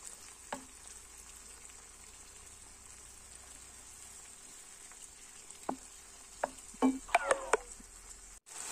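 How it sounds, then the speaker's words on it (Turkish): Tomatoes simmer in a pan with a faint steady sizzle, and scattered clinks and bubbling pops grow busier toward the end. "Suyu biraz çekene kadar pişiriyorum bu şekilde."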